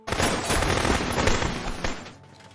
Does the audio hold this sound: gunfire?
yes